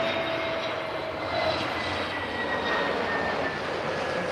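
A TAP Air Portugal Airbus A321 landing in a crosswind at Lisbon Airport, its engines a loud, continuous jet roar and whine sustained throughout with no talking.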